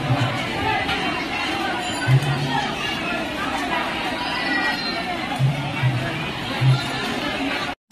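A crowd presses in for prasad distribution at a Navratri celebration in Birgunj, a dense babble of many voices with scattered shouts, while a nearby voice talks over the hubbub.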